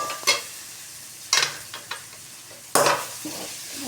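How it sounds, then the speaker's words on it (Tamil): Vegetable fried rice stirred in a pan, three bursts of loud close scraping and tossing with lighter scrapes between, over a faint background sizzle. "நல்லா கிளறி விடணுங்க."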